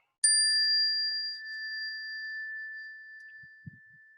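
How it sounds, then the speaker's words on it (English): Meditation bell struck once, a clear bright ring that sustains and slowly decays over several seconds in a quiet room, followed by a faint soft sound near the end. "I'll ring the bell to start us off."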